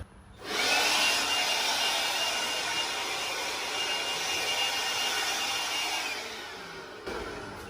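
A small Ryobi 36-volt battery leaf blower starts up and runs steadily at full power, a loud continuous airy whoosh close by that holds for about six seconds before briefly dropping and picking up again.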